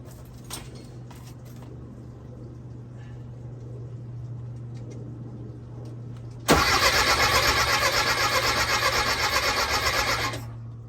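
A 1984 VW Puma GTI 1600 just out of storage, with jumper wires and a little gas, idles low at first, then cranks and fires abruptly into a loud, rough rapid running roar that holds steady before easing at the end.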